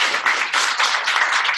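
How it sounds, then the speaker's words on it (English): Audience applause at a business bootcamp meeting, steady dense clapping from a crowd filling the room, loud and continuous with no talk over it. "Give them a round of applause"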